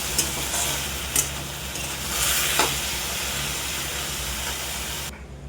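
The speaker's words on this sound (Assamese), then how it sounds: "কলফুল ভাজি আছোঁ।" Banana flowers frying in a pan on a home stove give a steady sizzling hiss, with a few brief stirring scrapes and clicks. The sound stays fairly close and even, with no voices, before it cuts off near the end.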